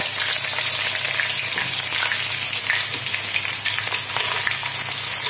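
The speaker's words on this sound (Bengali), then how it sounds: "পেঁয়াজ কুচি দিয়ে দিলাম" Chopped onion frying in hot oil with cumin seeds for Bengali bhuna khichuri makes a dense, continuous sizzle with fine crackling, heard up close and alone.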